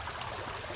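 Rain begins falling outside a home, a continuous broadband watery patter and hiss, even and unbroken, with no voices.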